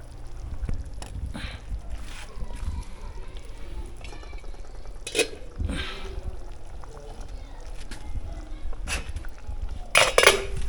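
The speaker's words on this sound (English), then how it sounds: "Yes, so I am mixing it with the Jadoh." A spoon stirs Khasi Jadoh rice in a pot, giving intermittent scrapes and metallic clinks against a quiet background, with a louder clatter of clanks toward the end.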